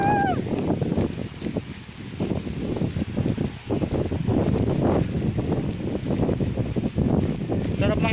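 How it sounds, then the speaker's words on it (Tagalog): Wind buffets the microphone aboard a boat out on rainy, open water, a steady loud rumble and gusting roar under intermittent talking voices throughout. "Sarap ng hangin."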